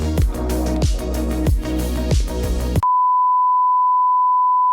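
A one-minute timer gives a steady, clear electronic beep that sounds alone and holds unbroken for about two seconds, after a stretch of rhythmic thumping music.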